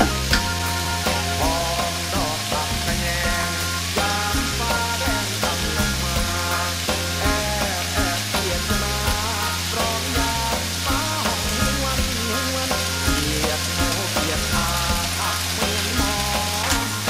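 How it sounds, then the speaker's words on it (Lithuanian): Vegetables fry in a wok over high heat, a loud continuous sizzle with repeated stirring and scraping clatter throughout, no voices. "Ir kokias 5 minutės tegul kepa."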